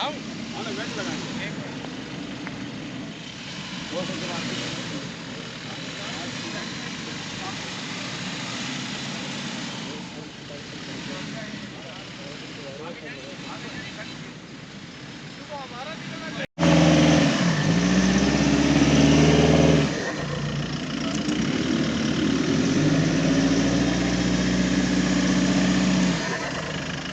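An off-road car on a muddy dirt track in Zafarwal idles under people talking, then its engine revs hard and loud, dropping and surging again as it pushes through.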